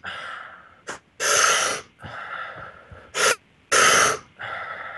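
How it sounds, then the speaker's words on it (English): Controlled breathing exercise by a hunter, a series of close, loud, forceful breaths, long rushing exhales alternating with short sharp intakes, with no talk. "I don't know if you guys can hear my breathing."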